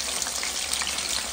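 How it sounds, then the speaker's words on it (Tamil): Breaded prawns deep frying in oil over a medium flame, a dense, steady bubbling sizzle that fills the short moment without any voices. "அழகா ஃப்ரை ஆகுது பத்தியா?"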